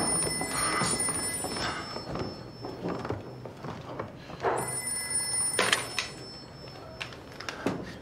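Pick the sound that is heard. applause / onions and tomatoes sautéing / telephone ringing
telephone ringing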